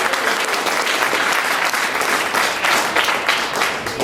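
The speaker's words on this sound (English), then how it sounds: "let's get another round of applause for Mackenzie" Dense, steady applause from an audience at a stand-up comedy show, many hands clapping at once in a continuous wash of sound that holds strong for the full length without pause.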